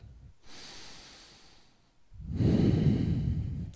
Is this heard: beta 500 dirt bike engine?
no